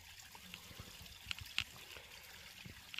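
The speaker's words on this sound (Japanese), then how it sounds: "水のせせらぎ" Gentle babbling of a small mountain stream beside a forest walking trail, heard at low level as a soft continuous trickle with faint splashy ticks and no talking.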